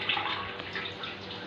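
Excess water pours off soaking rice being prepared for biryani, a steady, close stream of splashing and trickling that lasts throughout.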